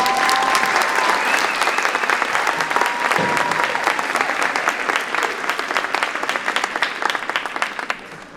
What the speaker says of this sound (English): You have to give them another round of applause.